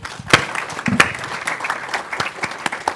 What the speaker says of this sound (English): round of applause for our cooks and everyone that made the food today